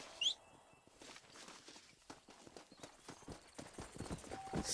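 Horse hooves clip-clop in the Red Dead Redemption game, a quick, fairly faint run of hoofbeats continuing through the whole stretch, with no talk.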